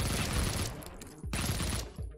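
Submachine gun fire in the video game Project Warlock: two dense sustained bursts of rapid shots, the first fading before a short gap and the second starting abruptly, loud and close with no talking.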